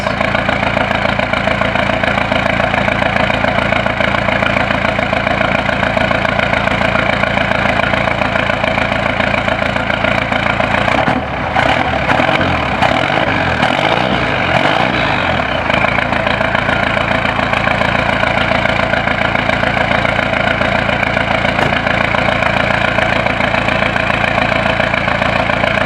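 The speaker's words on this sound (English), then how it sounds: "I'll rev it up for you guys." A 1980 Chevy K10 pickup with a 4BT Cummins diesel runs loud and steady on a snowy cold start, its rough idle dipping briefly during a short rev in the middle.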